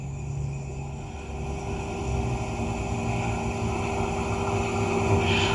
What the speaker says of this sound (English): I can't really hear you, car's too loud.